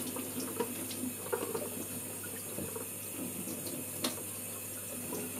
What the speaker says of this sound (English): you could just pour the hot water in it because the hot water is going under the lid and going onto the film anyway